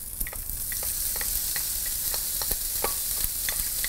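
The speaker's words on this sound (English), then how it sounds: "While that's chilling, I'm going to saute the shrimp." Marinated shrimp sautéing in a hot pan, a steady close sizzle broken by frequent sharp ticks and pops as the pieces are stirred.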